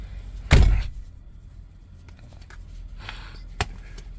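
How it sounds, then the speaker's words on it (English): A door is opened at a new dispatch location, starting with a single loud thunk of the latch or frame. Quieter handling rattles follow, then one short knock, all close and heard with no talk. "Just opens my door."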